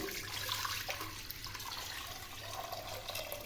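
Water runs steadily into a pressure cooker on the stove, a faint, continuous pouring and splashing heard close up with no voices.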